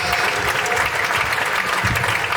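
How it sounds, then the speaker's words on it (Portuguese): An Assemblies of God church congregation in Osasco claps together, a brief, full and steady burst of applause filling the room. "Uma salva de palmas para Jesus."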